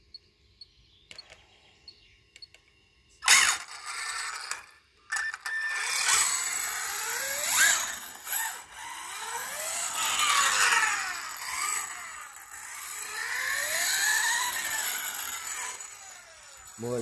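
FG large-scale RC car with a Castle 8S 800kv motor and full metal gearing, a whining, rasping mechanical drone that rises and falls in pitch as it accelerates, preceded by a few sharp clicks and knocks.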